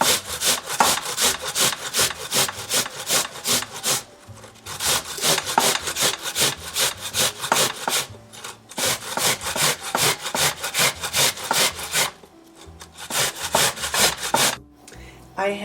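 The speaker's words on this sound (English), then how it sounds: "it's very easy to grate the white onion because it's a very soft kind of onion" A large white onion rubbed against a grater in quick, regular rasping strokes, loud and close, with a couple of short pauses between runs.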